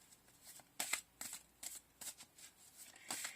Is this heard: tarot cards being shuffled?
yes